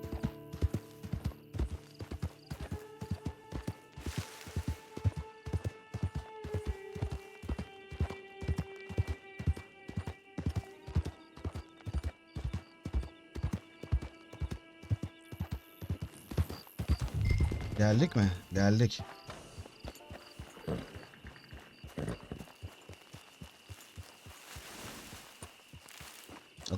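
Horse riding in Red Dead Redemption 2 Online, with steady rhythmic hoofbeats clopping throughout under background music, a louder rush partway through, then slowing; someone speaks briefly.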